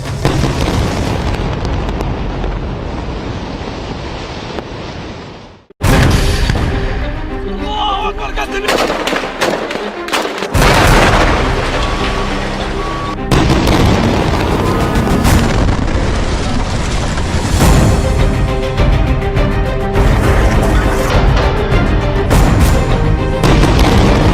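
Artillery fire and explosions from Israeli military strikes on Hezbollah camp areas, a dense, continuous roar of booms and gunfire-like cracks filling the whole stretch, with a sharp blast and brief dip near the middle before the barrage resumes loudly.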